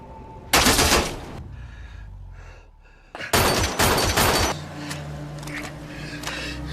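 Gunfire in a violent action film scene, with two loud broadband bursts of rapid shots, one near the start and a second around the middle, over a low rumbling score, then quieter tonal music.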